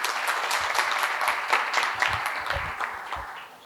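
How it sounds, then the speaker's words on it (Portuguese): An audience at a talk applauds in a dense, steady wash of clapping that holds loud throughout and tapers slightly near the end, with no voices over it. "Queria uma salva de palmas"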